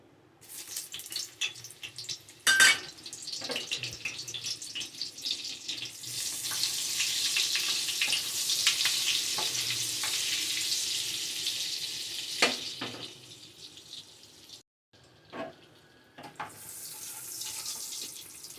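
Butter melting and sizzling in a pan while fried rice with coriander is being made: a steady hiss builds and holds through the middle, broken by a few sharp clinks, then fades and cuts off near the end, with no talk.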